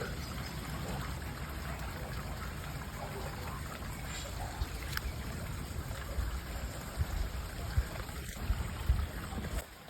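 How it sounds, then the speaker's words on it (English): Cinderland Brook flowing near a canal: a steady broadband wash of running water with continuous trickling, fairly close, with a few louder splashes and rustles toward the end and no talk. "we've definitely found a brook, and I think that would be Cinderland Brook"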